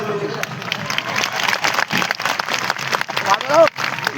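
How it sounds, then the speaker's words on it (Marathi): An audience claps in a dense, sustained burst of applause, with voices and shouts mixed in among the crowd. "एकदा जोरदार आयोजन कमिटीसाठी टाळ्या वाजवा"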